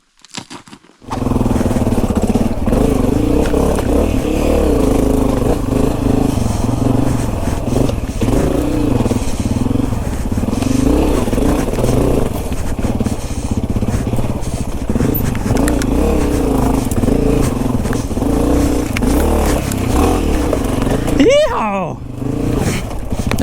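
Dirt bike engine running loud and close for nearly the whole stretch, riding in second gear and lugging, with the tone shifting as throttle changes, then cutting out near the end.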